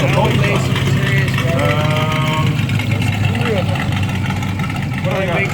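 A big car engine idles at a car show with a deep, steady rumble throughout, while voices talk over it.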